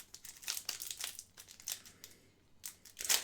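Young Guns trading card packs are torn open by hand in close, crinkly bursts of foil wrapper, several rips and crumples in quick succession with short pauses between.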